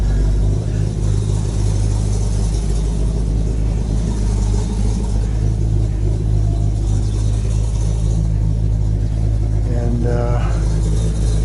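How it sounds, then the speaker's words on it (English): Inside a modified Audi R8 on a ride, the engine gives a deep, steady rumble, with a brief rise in revs near the end, while people talk over it. "go for a ride in an Audi. This is not an average Audi"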